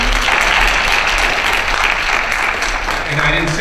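An audience at the National Action Network convention's young professionals session applauds loudly and steadily, a dense wash of clapping that holds throughout and eases slightly near the end.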